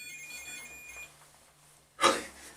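An EVP device inside the old Derby Gaol sends out a sudden, sharp burst of sound at the very end. Before it the room is quiet, with only faint tones humming in the background.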